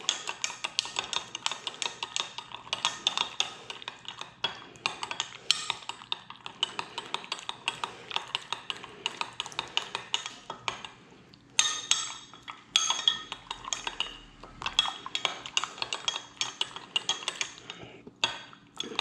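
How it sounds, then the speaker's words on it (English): A metal spoon stirs gelatin in a container to dissolve it for aspic, making rapid, repeated clinks and scrapes in a steady rhythm, close and clear, with a brief pause partway through. "now I'm going to grab a spoon and stir this up to dissolve that gelatin"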